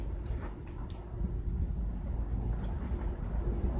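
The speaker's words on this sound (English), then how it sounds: "That engine really runs great." A small Briggs & Stratton gasoline engine with a damaged shaft drones steadily with a low, continuous rumble and rattle, running evenly throughout without pauses.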